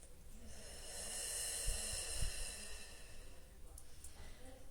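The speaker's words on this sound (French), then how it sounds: "Prenez une grande respiration." Someone draws a slow, deep breath in and lets it out with an audible sigh during a guided relaxation, soft and close over faint background hiss.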